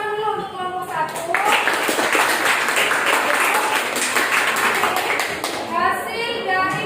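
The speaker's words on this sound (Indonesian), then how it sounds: "Tepuk tangan dulu untuk kelompok 1" A classroom of children clapping together for group 1, a dense burst of applause from a nearby group, with speaking voices heard before and after.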